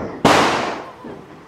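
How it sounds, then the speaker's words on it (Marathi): A single firecracker goes off with a sharp, loud bang and then a long fading crackle. A second burst begins just as the sound ends. "आता बघा फटाके वाजेल"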